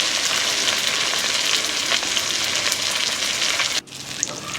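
Fish heads fry hard in hot oil, a loud, dense, continuous sizzle close up with crackling throughout, dipping briefly near the end before resuming.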